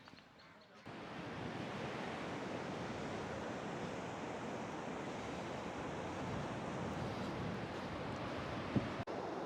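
Sea waves on the Konkan coast roar as a continuous broad wash of surf, mixed with wind buffeting the microphone, steady and moderately loud throughout.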